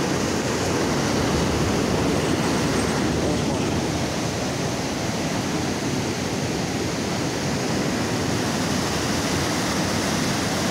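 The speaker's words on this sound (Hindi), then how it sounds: "पानी की आवाज़ आनी शुरू हो गई है। ये पानी के प्रेशर की वजह से आवाज़ है।" Loud, steady roar of water rushing under pressure from a dam, a dense continuous torrent close by with no pauses, like water forced hard through an outlet.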